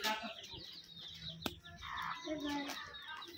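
Chickens cluck at close range in a Bangladeshi household setting, in short irregular bursts mixed with brief rustling and a sharp click, with a little background voice activity.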